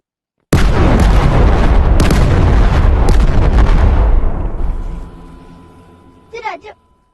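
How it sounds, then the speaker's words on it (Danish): A bomb explodes in the video game Animal Company with a sudden very loud roaring blast that rumbles for several seconds and then fades, with a brief burst of voice near the end. "Det var godt nok noget af en eksplosion."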